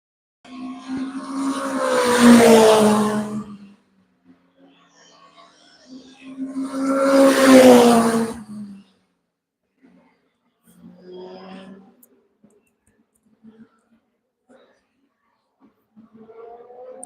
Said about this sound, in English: But the cars pushing around this circuit.